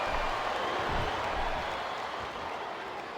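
Arena crowd roar from the WWE SmackDown vs Raw 2007 video game on PlayStation 2, a steady, dense wash of cheering and applause filling the whole clip at even loudness.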